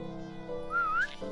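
A single rising whistle, played in Minecraft to call a dog into a bath, lasts under half a second. It is clear and fairly close over a low steady game hum.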